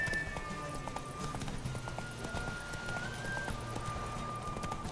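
Rhythmic hoofbeats of a horse racing at speed in The Witcher 3: Wild Hunt, steady and even, with a faint tonal musical background underneath.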